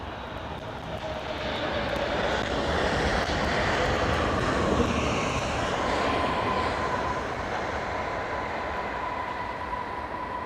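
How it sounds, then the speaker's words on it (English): A landing airliner in challenging conditions gives a steady, loud roar of engine and rolling noise, with faint thin tonal squealing from the brakes running through it throughout. "Hear the brakes squealing away"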